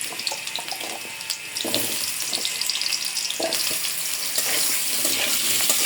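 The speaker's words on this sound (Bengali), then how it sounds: "প্রথমে আমি একটু আলু দিব, আলুগুলো একটু ভাজিয়ে দেবো।" Potatoes fry in hot oil in a pan, giving a steady, close hiss of sizzling with faint crackles and a watery, rushing texture throughout.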